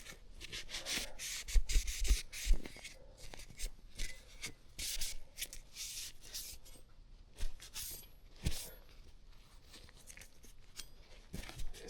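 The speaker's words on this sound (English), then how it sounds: "I'm going to clean it with this rag right here" Rag rubbing and scrubbing over a Stoeger M3020 shotgun during cleaning, close and fairly quiet, with irregular bursts of dry friction and soft handling knocks.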